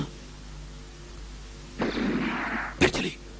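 After a quiet stretch, a rumbling report and then a sharp crack ring out, like gunshots at some distance.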